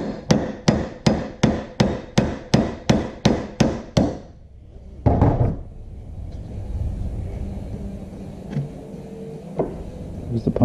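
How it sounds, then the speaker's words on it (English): A hammer strikes an auto punch for making coin rings: about a dozen sharp metallic blows in a fast, even rhythm, then one more after a pause, then quieter handling sounds. "Give it a couple good whacks."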